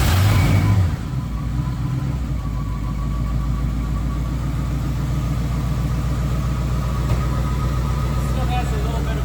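A Thunderbird V8 idles steadily up close after a lifter replacement, with a little exhaust noise in its smooth, even rumble; a voice talks over the engine the whole time.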